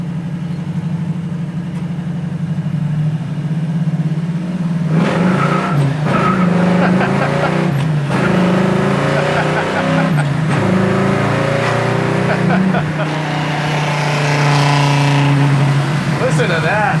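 A 1968 Camaro SS muscle car's engine revs and roars steadily at close range, rising and falling as it accelerates, with a voice talking over it at times.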